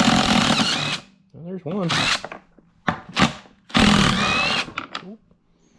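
A nut driver works at rusty 12 millimeter bolts on a Yamaha Rhino, giving short bursts of whirring power-tool noise between pauses, close and loud, with someone speaking briefly in between.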